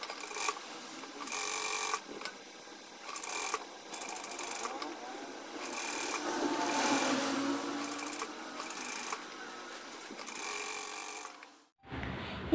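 Sewing machine stitching lining material onto canvas at the neck of a single-colour top, a steady close mechanical whir in repeated short runs with brief pauses between, stopping near the end.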